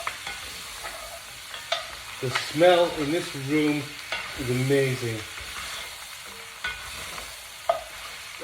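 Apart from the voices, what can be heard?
mutton frying and being turned in oil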